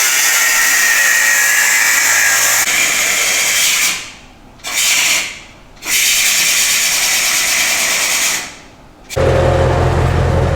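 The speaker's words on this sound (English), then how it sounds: "About ready to grind some stuff." Grinder working metal on a Volvo semi truck, a loud continuous harsh hiss with two brief dips where the tool lifts off, then a lower motor whine near the end.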